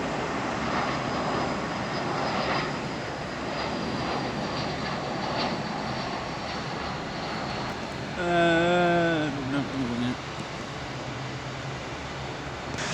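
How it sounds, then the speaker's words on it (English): An Aer Lingus airliner roars loudly overhead, a broad steady engine noise filling the air, with a short whining horn-like tone rising in the middle. "as we continue to get an almighty racket from that Aer Lingus flight"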